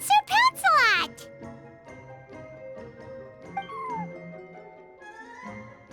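A cat in the Genshin Impact video game lets out a few sharp, high meows up close, followed by quieter in-game ambience and soft tones.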